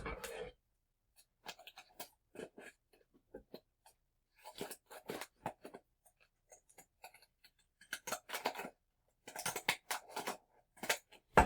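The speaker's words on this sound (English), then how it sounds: "Now I'm going to go back and cut." Scissors snip through a chip-bag wrapper for a homemade party favor craft, a run of sharp close crisp cuts in irregular bursts separated by short pauses, growing busier and denser toward the end.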